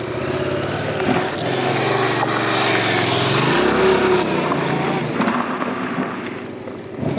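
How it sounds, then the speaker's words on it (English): Yamaha FZ7 motorcycle ridden slowly on gravel, its engine droning steadily and swelling slightly in the middle as the bike moves across loose stones, loud and continuous with no voices. "what I'm going to show is just a little riding in the gravel"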